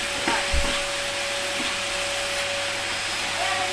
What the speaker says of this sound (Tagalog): Nag-vacuum ka ba dito?